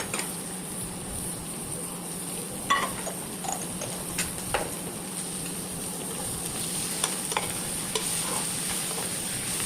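Cumin and turmeric masala is stirred into a taro curry with raw mango in a pan, with soft scraping strokes and occasional light clinks over a steady low sizzle, close and continuous, no voices.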